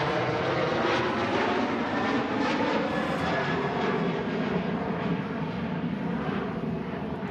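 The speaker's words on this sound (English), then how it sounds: "There goes the Ryanair, bit of wing fluff." A Ryanair airliner takes off from Manchester Airport bound for Alicante, its jet engines a steady, broad roar that holds loud throughout.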